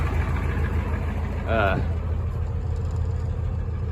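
A 1992 Ford F250 with IDI diesel runs with a steady low rumble close by, a brief voice cutting in partway through.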